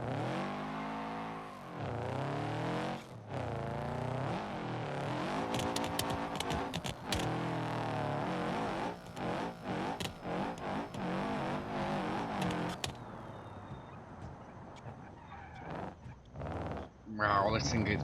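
A front-wheel-drive car in BeamNG.drive, fleeing a flood, strains and bogs down, its engine note rising and sagging in wavering revs, with a voice talking over it.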